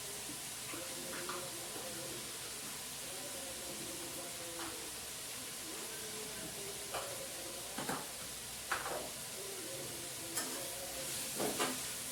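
Vegetables frying in a pan on a gas stove give a steady, close hiss of sizzling, broken by scattered scrapes and taps of stirring that grow more frequent toward the end.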